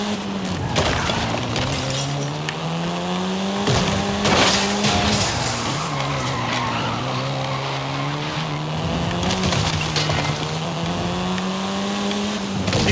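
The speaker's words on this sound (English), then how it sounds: "This version is the Volkswagen Golf R" Volkswagen Golf R, the seventh-generation hot hatch, driving in Forza Horizon 5: a loud, steady engine tone that rises and falls through gear changes, with tire squeal and skidding breaking in over thirteen seconds, no talk.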